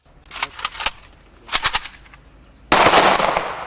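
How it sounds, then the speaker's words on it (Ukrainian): Military gun salute volley at a memorial ceremony honouring prisoners of war in Lozova, with several sharp rifle shots in quick bursts followed by a louder sustained crackling barrage, all close and loud. "пролунав військовий салют"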